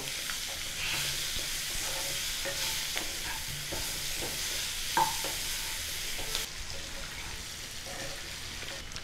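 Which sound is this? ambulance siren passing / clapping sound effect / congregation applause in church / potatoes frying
potatoes frying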